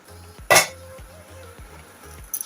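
A metal lid clanks sharply onto a cooking pan of onion and tomato, one bright clatter over a faint, steady sizzle, with a lighter clink at the very end.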